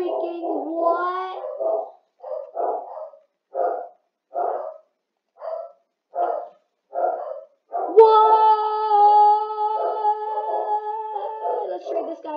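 Dogs heard in a video game setting, a series of about ten evenly spaced short barks or yowls, followed by a sustained howl-like tone over the last few seconds, clear and fairly close.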